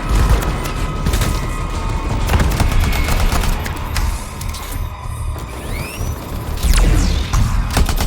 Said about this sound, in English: Predator cannon fire.